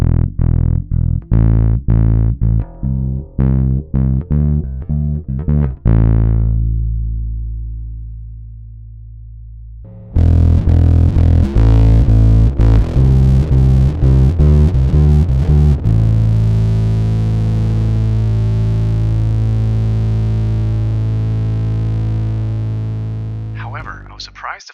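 Guitar played through a Way Huge Green Pickle Big Muff-style fuzz pedal built for bass, with blend and tone controls; thick, saturated riffs and sustained chords ring out loud, with a pause and then heavier strummed passages.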